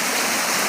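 A creek flows steadily with a dense, continuous rushing and splashing of water, close to the microphone and heard alone with no voices.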